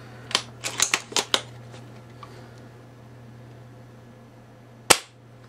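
Sharp, close shots from a UTG GEN5 airsoft sniper rifle during chronograph FPS testing, with a quick cluster of snappy cracks followed by a quiet gap and one final isolated shot over a steady low hum.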